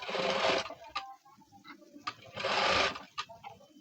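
A sewing machine stitches a blouse with double piping in two loud rapid bursts, separated by quieter pauses with small clicks and handling noises from the fabric and machine.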